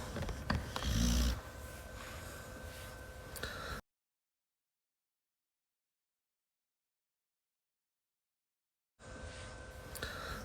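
Soft, rhythmic snoring from a dog, low and close, with a few breaths repeating before a long stretch of silence, then faint noise returns.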